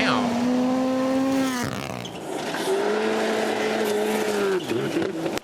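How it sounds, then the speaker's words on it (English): Rally car at Rally Latvia 2024 with a twin turbo engine, revving loudly with rising and falling pitch as it accelerates and brakes through a corner, tire noise and turbo whistle, with someone talking over it. "but that twin turbo sound, oh, that whistle, bro, you gotta love it"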